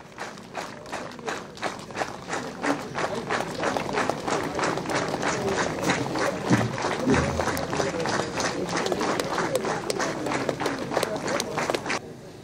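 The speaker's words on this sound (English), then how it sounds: "I may request all our member present here to just give a clap for all the people standing here" An audience claps steadily for newly ordained priests standing at a facilitation ceremony, a continuous, even wash of applause with some voices beneath it throughout.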